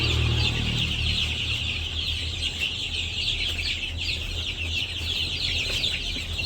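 Chickens and chicks in a village yard giving soft, continuous clucks and chirps over a steady low background hum, moderately distant, with no talk.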